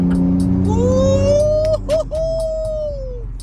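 A Dodge Charger V6 Magnum sedan making a brief quick pull, the engine tone rising steadily then easing off, loud and close over a low road rumble.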